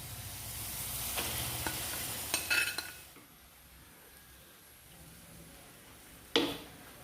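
Ground masala paste dropped into sautéed onions in a pan, a soft sizzle with stirring scrapes and a few utensil clinks early on, then quieter frying and one sharp knock near the end.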